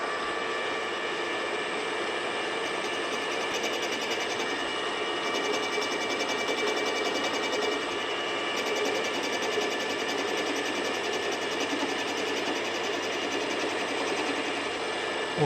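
A surface grinder plunge-grinds a shop-made bed table, giving a continuous steady whirring drone with a faint metallic hum throughout and no speech.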